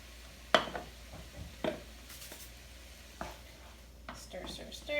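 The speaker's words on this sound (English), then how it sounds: "Give it a little quick stir." Egg roll filling with hamburger meat, seasoned with salt and pepper, is stirred in a frying pan. There is a quiet sizzle, with a few sharp utensil scrapes and clacks spaced unevenly against the pan.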